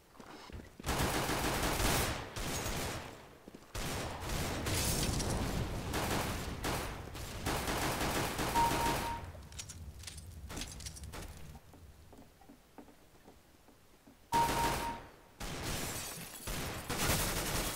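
Rapid automatic fire from the Bunsen burner gun in the CS:GO video game, loud, dense bursts in long sustained volleys with brief pauses between them.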